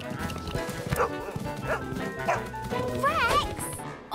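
Cartoon dog barks and yips in several short bursts mixed with whimpers, close and fairly loud, among busy animal noises while people talk over them.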